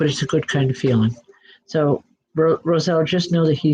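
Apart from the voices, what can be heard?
No distinct noise like a dog, phone or traffic.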